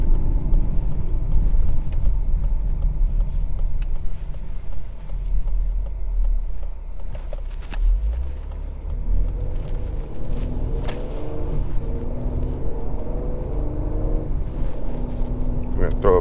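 A 2022 Ford Explorer ST with a 10-speed automatic rumbles steadily from inside the cabin while driving, its engine note rising and shifting as the paddles are used to downshift, with occasional talk over it.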